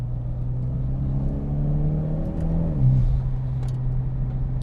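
A Mitsubishi Evo X with a dual clutch transmission drives steadily, its engine droning in a low, even hum that rises slightly as it pulls, then settles with a brief gear-change dip near the end, no talk.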